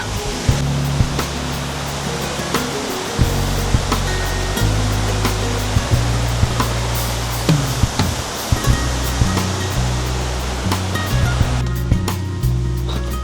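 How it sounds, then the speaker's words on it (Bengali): Waterfall water from Meghalaya pouring over a dam in the Birishiri area, a loud, steady rushing roar with a deep rumble and no voices. "মেঘালয়ের ঝর্নার পানি এই পাশে"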